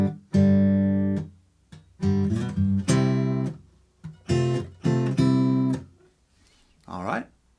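Acoustic guitar plays a section with strummed chord bursts separated by short gaps, close and fairly loud, ending on a brief sliding note.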